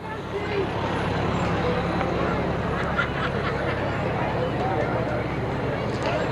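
A fire rescue truck from Harmonville, serving Plymouth Township, rolls past in a St. Patrick's Day parade, a loud steady engine rumble mixed with roadside traffic noise and crowd babble.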